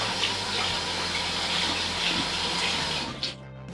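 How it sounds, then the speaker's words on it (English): Dirty vegetables are rinsed under a running kitchen tap, a steady close gush of water streaming into the sink that cuts off near the end, leaving a few drips and quiet clatter. "They are dirty, so we're going to wash them."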